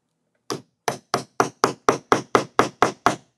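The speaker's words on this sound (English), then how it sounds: "I have my little teeny hammer here. I'm just going to hammer" A small hammer taps ten times in a steady rhythm, sharp close knocks after a brief pause following the first strike, setting resin flowers into a wooden dresser.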